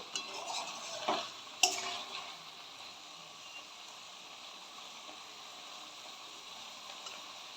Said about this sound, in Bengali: অল্প করে একটুখানি ঘেঁটে দেব